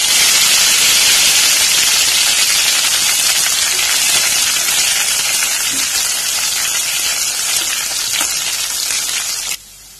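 Curry leaves splutter and crackle in hot oil with cumin and onion in a pan, a loud, dense, continuous hissing sizzle held close for several seconds before it drops away abruptly near the end.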